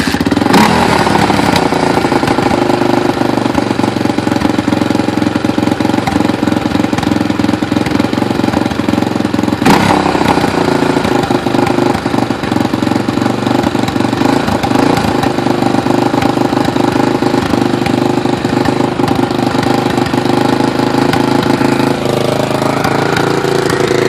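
A 1987 Honda TRX250X ATV engine runs steadily and loud throughout, a continuous close mechanical drone with a brief dip in the middle and no talking.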